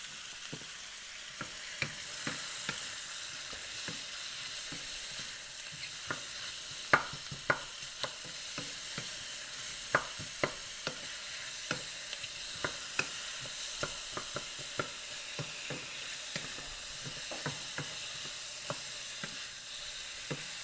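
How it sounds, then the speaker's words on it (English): Oil sizzles steadily in a hot pan as food is sautéed for a Sunday pork meal prep, with frequent sharp pops and crackles over a constant frying hiss, heard close with no talking. "Alright, so we're going to saute this. Need a little bit more oil."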